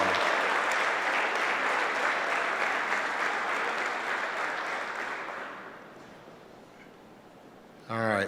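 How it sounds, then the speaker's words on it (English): At a hall of fame induction ceremony, an audience applauds warmly, a full burst of many hands clapping that gradually thins and fades out, followed by a voice starting to speak. "give you a round of applause."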